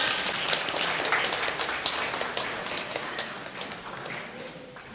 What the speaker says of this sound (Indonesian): Untuk umat kita beri tepuk tangan untuk Mesdinar kita yang luar biasa.